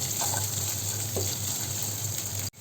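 Chopped onion sizzles in a pan of hot oil for fish curry, a steady close crackling hiss with faint stirring, ending in a brief cut.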